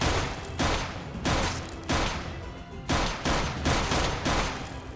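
Gunfire in a Minecraft police game, loud bursts of automatic shots in repeated volleys about every half second to a second, close and alone without talk.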